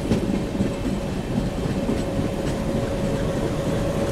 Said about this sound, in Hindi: इस ट्रेन का तो हो गया है डिपार्चर